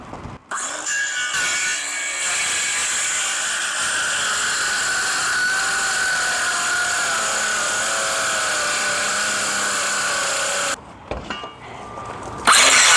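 A battery-powered saw cuts steadily through plywood for about ten seconds, a sustained whining buzz with the blade set shallower in the sheet, stopping abruptly near the end with brief handling noise after.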